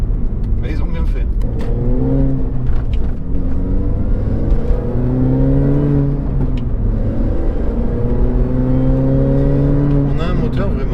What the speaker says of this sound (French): on entend vraiment le bruit de l'échappement